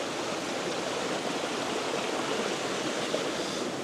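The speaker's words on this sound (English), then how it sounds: "This is just the upper creek. This goes into the lake." An upper creek rushing toward a lake gives a steady, full, close-up roar of flowing water, unbroken throughout with no voices.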